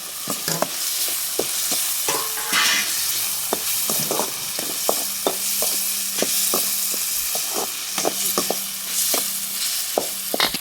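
Chicken curry ingredients fry in a pan over a wood-fired stove, a steady loud sizzle with repeated scraping stir strokes and clinks throughout, no voices.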